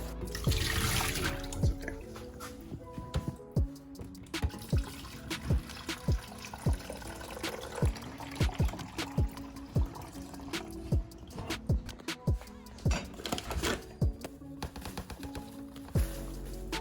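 Water running at a kitchen sink as an item is rinsed, a steady close stream with splashes and a series of sharp clinks and knocks against the basin, no one talking.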